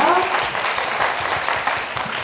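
Audience applause at a Korean book talk event, a dense, steady wash of many hands clapping for a couple of seconds in a room, with a faint voice at the start.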